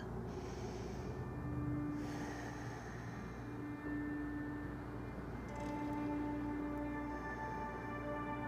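During a beginner morning yoga session, a deep, audible breath in is drawn through the nose over soft background music. The airy inhalations are close and fairly quiet, rising and falling across several seconds without speech.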